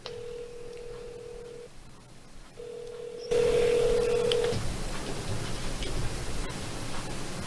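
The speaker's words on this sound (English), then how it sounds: "Phone ringing." Telephone ringback on a call-in line: a steady tone sounds twice in long bursts separated by a pause, then a louder burst as the line connects over background hiss, with no talking.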